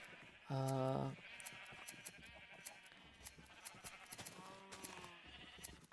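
Blocky Minecraft sheep give a single short, loud bleat early on, then fainter bleats follow later over steady game background sound.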